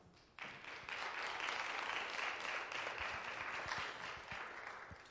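An audience at a film discussion applauds the executive producer, sustained clapping from many hands that swells quickly and holds steady, fairly distant in the room.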